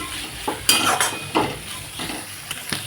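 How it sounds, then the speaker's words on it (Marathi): Ginger pieces and garlic cloves fry in a pan, making a soft sizzle broken by several sharp clinks and scrapes of a spoon stirring, close and alone with no talk. "दोन चमचे अद्रकचे तुकडे आणि एक एक कळी जी ती लसूणची मी निवडून घेतली आहे लसूण पण मी टाकून दिलेले आहेत यांना पण फ्राय होऊ देऊ"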